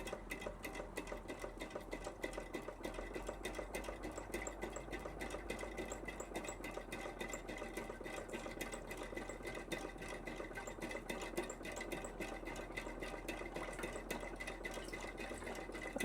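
A steady, fast mechanical chugging with a rapid regular beat, continuous and close, over a low hum, from a Heinrici hot air stationary engine running and pumping water.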